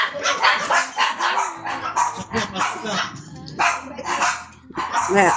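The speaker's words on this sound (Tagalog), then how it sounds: "May mga aso dyan." Dogs barking repeatedly nearby, some yips mixed in, while people talk over and between the barks.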